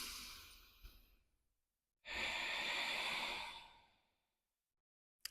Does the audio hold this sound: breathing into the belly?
yes